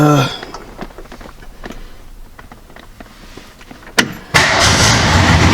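A 1967 Ford Mustang, long abandoned, cranks over with a steady rhythmic churning for about four seconds, then fires and catches into a loud, constant running roar up close.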